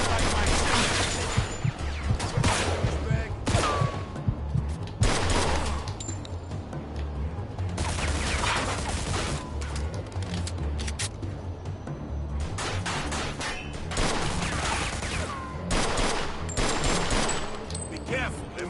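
Gunfire in Mafia 2 Definitive Edition: repeated bursts of shots and rapid volleys over about nineteen seconds, broken by short lulls, with voices talking between and under the shooting.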